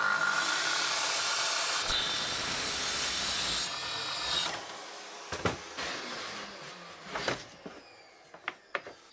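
A track saw crosscuts a floorboard with the guide rail set about 10mm above the workpiece, giving a loud, steady whining cut for roughly four seconds that fades out, followed by scattered clicks and knocks as the saw is lifted.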